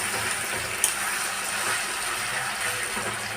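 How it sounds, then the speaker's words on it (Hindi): Pointed gourd (parwal) and potato pieces frying in hot oil in a kadhai give a steady, even sizzle with faint clinks, and no talking over it. "इधर परवल को हम फ्राई कर रहे हैं,"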